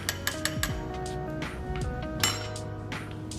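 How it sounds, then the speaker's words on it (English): Ice clinks and rattles against glass as a gin cocktail is stirred, making a steady close jingle with several sharper ringing taps. "We are going to stir it."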